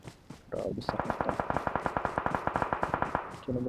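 Rapid automatic gunfire in a video game, a steady burst of about two dozen sharp evenly spaced shots lasting nearly three seconds, loud and close, with brief voices before and after.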